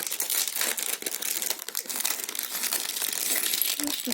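Continuous crinkling of a plastic bag of Lego parts being opened, loud and close, with dense rustles and crackles throughout and no talking.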